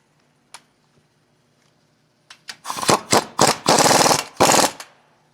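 A pneumatic impact tool rattles in several short loud bursts as a bolt is tightened on a Jeep Wrangler JK Rubicon steering system, after a few isolated clicks, nearby with no talking.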